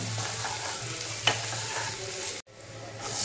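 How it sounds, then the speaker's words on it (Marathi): Chillies sauté in hot oil with cumin, asafoetida, chopped ginger and garlic, giving a steady close sizzle with a sharp stir-scrape partway through before the sound briefly cuts out. "मिरच्या थोडंसं आपण परतून घेऊया"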